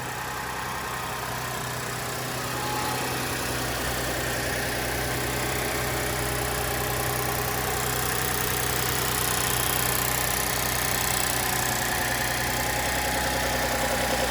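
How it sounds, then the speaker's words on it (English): A 2007 Lexus IS250 with a V6 engine idles in a smooth, steady low hum that holds evenly for the whole stretch, with no voices over it. "V6 engine."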